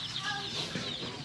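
Chickens on a homestead clucking softly and continuously at mid distance, with scattered higher chirps and hen calls over a low outdoor background.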